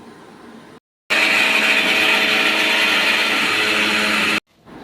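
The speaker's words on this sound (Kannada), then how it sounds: "ಇದನ್ನೆಲ್ಲ ಒಂದು ಮಿಕ್ಸಿ ಜಾರ್ಗೆ ಹಾಕಿ ರುಬ್ಕೋಬೇಕು" A mixer grinder whirs as it blends chopped apple with grated beetroot and carrot in a mixie jar for ABC juice, starting abruptly after a short quiet gap, running loud and steady for about three seconds, then cutting off.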